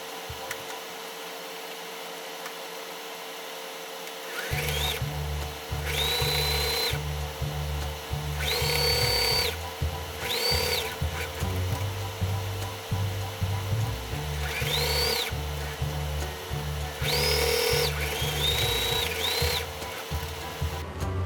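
A sewing machine stitches fabric strips for a ruffled fabric keychain, its motor whirring in several bursts of a few seconds each with short pauses between, close and steady, with no one speaking.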